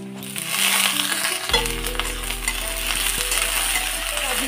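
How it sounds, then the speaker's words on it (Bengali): Boiled jackfruit seeds and taro stems drop into hot oil already sizzling with cumin and chopped onion, setting off a loud, steady frying hiss with a few stirring clatters and no talking. "এবার দিয়ে দেবো সেদ্ধ করা কাঁঠালের বীজগুলো, রাখা লতিগুলো দিয়ে দেবো।"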